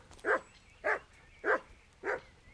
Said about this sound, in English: Why are you barking, puppy?